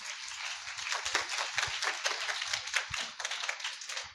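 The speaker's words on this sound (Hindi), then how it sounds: "जोरदार ताली बजाओ।" A church congregation claps loudly and together during a Hindi-language worship service, a dense, steady wash of applause with sharper individual claps that runs throughout.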